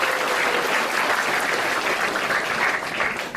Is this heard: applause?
yes